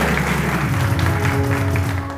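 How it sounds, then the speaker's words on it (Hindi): Studio audience on a TV morning show claps together, a dense steady wash of applause close to the microphone, holding loud throughout with a low hum underneath. "तालियां जरा जोर से होनी चाहिए जी"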